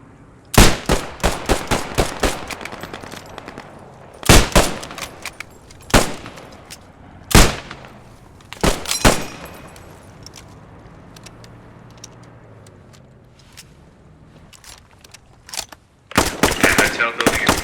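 Machine gun fire in the video game Post Scriptum rattles in repeated bursts, some sharp and near, others duller, with quieter gaps between the volleys and a final burst at the end.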